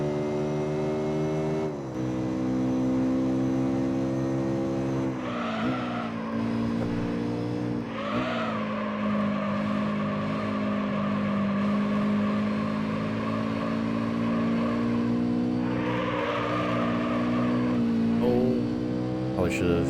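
A race car in Gran Turismo 4 Prologue on PS2 drones steadily through a turn, engine loud and close with shifting pitch, brief scraping hits against a wall, and a voice talking over it.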